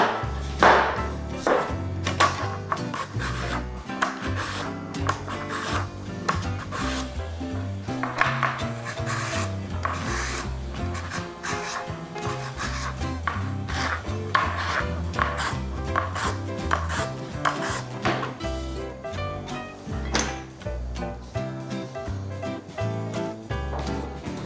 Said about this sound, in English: The radish, we will basically cut it into a julienne.